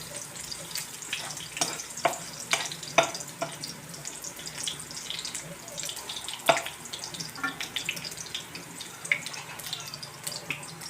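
Garlic sautéing in a pan at home, a steady low crackle of frying broken by sharp scattered pops and clinks, close by, with no talking.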